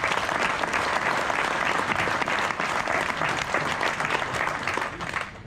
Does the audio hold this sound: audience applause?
yes